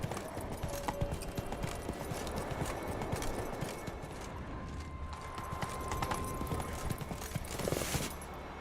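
A horse's hooves clip-clop steadily at close range while it is ridden in the Polish edition of The Witcher 3 video game, with a dense, continuous background of game ambience.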